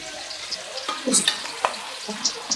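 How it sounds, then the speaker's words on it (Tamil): Sliced onions fry in oil in a pan for chicken biryani, a soft continuous sizzle broken by a few scrapes and light clatters of stirring. "வெங்காயம் பார்த்தீங்கன்னா சூப்பரா வந்து வதங்குது."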